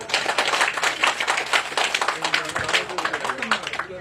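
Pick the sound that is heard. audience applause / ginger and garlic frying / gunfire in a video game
audience applause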